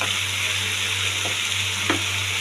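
Aubergine, potato and pumpkin fry in a pan with a continuous bright sizzle and a low steady hum. Two short scraping stirs break through near the end.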